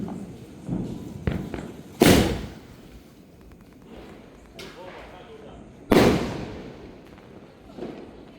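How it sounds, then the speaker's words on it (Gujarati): Diwali firecrackers go off outdoors with two sharp, loud bangs a few seconds apart, each ringing briefly into a fading crackle, with people talking and moving around between the blasts. "તો હવે નિશિત આ ફટાકડો સળગાઈ રહ્યો છે."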